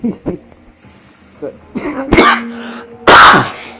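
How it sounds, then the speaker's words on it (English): A person coughs several times, with short harsh bursts spread over a few seconds and a louder final cough, close to the microphone. "Sorry for the cough, people."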